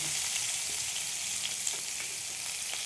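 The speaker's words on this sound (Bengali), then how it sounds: "এবার সব সবজিগুলো আমি এর মধ্যে দিয়ে দিলাম। এবার ভেজে নেব।" Vegetables fry in hot oil in a pan for a mung dal dish, giving a steady, bright sizzle that holds evenly close up, then cuts off abruptly.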